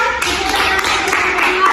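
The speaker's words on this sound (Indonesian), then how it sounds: "tepuk tangan dulu untuk kelompok 2" A short round of classroom clapping for a student group, several quick claps under voices talking.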